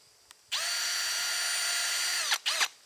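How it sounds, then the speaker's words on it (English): A power drill bores through a bar of soap in one continuous high whine of about two seconds, close and loud, followed by two short trigger bursts as it winds down, with no talking. "Take my drill, and I'm just going to drill a simple hole through it,"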